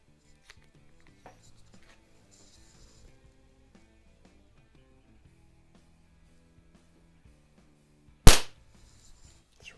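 A Crosman model 137 .177 multi-pump air pistol fires a single sharp, loud crack, followed by a quick decay, amid faint handling clicks and rustles, with no talking.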